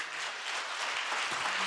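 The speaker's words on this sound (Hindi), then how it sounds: "उसमें तो तालियों की आवाज तो बहुत धीमी हो गया है" Congregation clapping steadily during a church talk, a dense, even wash of hand claps at moderate distance with no speech over it.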